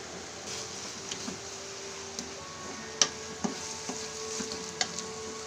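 Chinese kangkong (water spinach) stir-frying in a pan with liquid seasoning, a soft steady sizzle with scattered light clicks and taps of a utensil against the pan, quiet and without talk.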